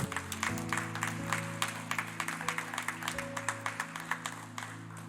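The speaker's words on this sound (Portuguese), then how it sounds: "você pode aplaudir ao nome do Senhor" Church congregation clapping in rhythmic, regular beats, faint and distant beneath sustained organ or keyboard chords.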